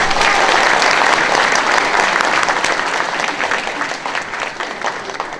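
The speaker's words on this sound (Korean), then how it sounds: "박수 맞아주시기 바랍니다" Loud, dense audience applause welcoming a professor to the podium at a Liberation Day ceremony, a full room clapping steadily and tapering slightly toward the end.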